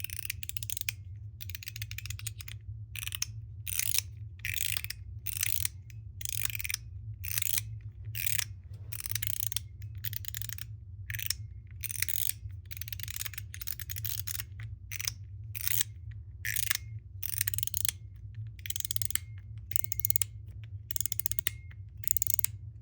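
Rapid, steady run of sharp mechanical clicks from a MOT Mix fidget toy with flathead screws, the snaps repeating densely and close up with no talk.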